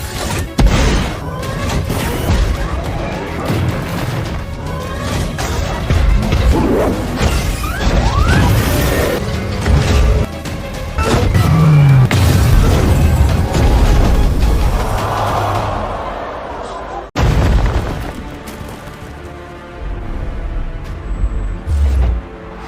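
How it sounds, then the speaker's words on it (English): Heavy impacts and crashing from a mech fight in a video game, with loud thuds, smashes and metallic debris sustained over a dense score, then a brief drop before more hits and rumbling, with no speech. "Colt dropped Vex with one punch"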